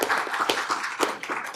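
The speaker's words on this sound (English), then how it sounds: "Round of applause." Applause from a crowd, a dense patter of many hands clapping steadily for a moment, fairly close and lively.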